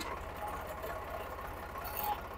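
A tractor engine runs steadily, its low, even throb close and fairly quiet, with no voices over it.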